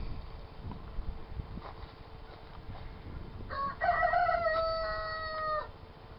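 A rooster crows once outdoors, a drawn-out cock-a-doodle-doo of moderate loudness rising above a low rustling background near the end.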